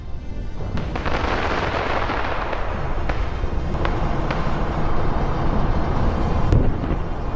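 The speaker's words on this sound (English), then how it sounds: "A shell hits the tank from above?" Explosions and shell hits strike during a Russian armored assault by a tank, an ammo-laden MT-LB and two APCs under a smoke screen: a loud, continuous roar of blasts with sharp impacts rising through it, no voices.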